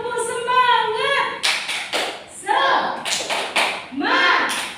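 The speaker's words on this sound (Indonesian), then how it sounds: "Tepuk semangat ya, supaya kita selalu semangat." Students in a classroom perform a rhythmic 'tepuk semangat' cheer, sharp group claps in quick patterned bursts between loud chanted voices.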